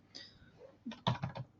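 Short burst of keyboard typing as a search goes into the Elementor Finder, a handful of quick, close clicks bunched together near the end after a quieter tap or two.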